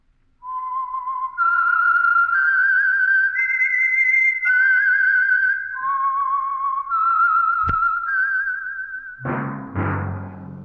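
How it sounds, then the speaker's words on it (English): A lone human whistler performs the eerie theme melody of the radio mystery program The Whistler, holding clear sustained notes that step up and down in pitch, close and loud, closing with a couple of bright orchestral accents. "That whistle is your signal for the Signal Oil Program, The Whistler."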